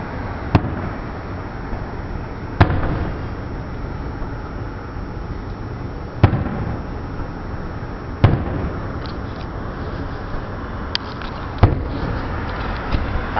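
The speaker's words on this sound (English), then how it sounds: "Enjoying the fireworks?" Fourth of July fireworks bursting in a series of sharp, loud booms spaced a few seconds apart, with a steady rumbling wash of noise between blasts.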